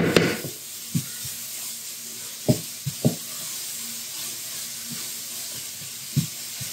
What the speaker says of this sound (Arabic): غادي نخلط مزيان كيتشحر هادشي مزيان